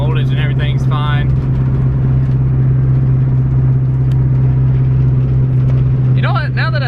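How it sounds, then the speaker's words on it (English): A restored car engine, the Onyx project car, idles steadily with a loud, constant low rumble throughout, while people talk over it near the start and end. "this is the first time you've heard the car run in like forever"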